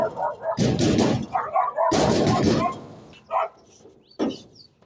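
A dog barks in loud, close bursts: two long harsh volleys, then a few shorter isolated barks trailing off, with quiet gaps between.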